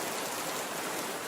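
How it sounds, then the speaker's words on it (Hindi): Heavy downpour used as a sound effect in a Hindi radio story, heard as a steady, dense hiss of rain that continues without a break and with no voices. "मूसलाधार बारिश हो रही थी और वो कमरे में बैठा जल थल देख रहा था।"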